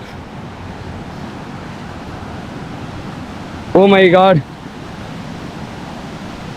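Saatsada waterfall in Maharashtra gives a steady, close rushing roar that fills the whole stretch, and a single voice briefly exclaims over it midway.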